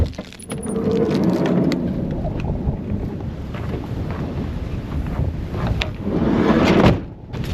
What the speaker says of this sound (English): the wind is just howling on this bluff